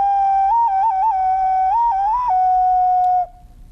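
A small clay whistle plays a bright, steady tone with quick trills and pitch flutters, then holds a long note before stopping abruptly.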